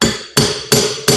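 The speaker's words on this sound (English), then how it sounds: "Yep, I'm hammering on my turbo." A hammer strikes a turbocharger being fitted to a budget Mustang, four sharp metallic blows at a steady rhythm about a third of a second apart, loud and close, each ringing briefly before the next.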